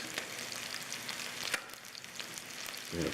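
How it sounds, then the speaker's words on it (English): A leg of lamb steak sears fat side down in a pan over medium-high heat, giving a continuous moderate sizzle with scattered crackles and pops and a thicker burst of spitting at the end. "we're going to let this cook for a minute or two on the fat side, and like I said, medium-high heat"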